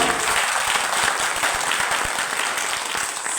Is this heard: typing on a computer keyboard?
no